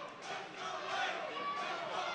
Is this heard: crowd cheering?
yes